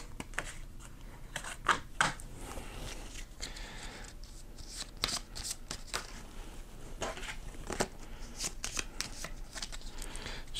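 Thunderstone Quest game cards being shuffled by hand on a table, a steady run of crisp riffling and flicking bursts repeating throughout, close and fairly quiet, with no talking.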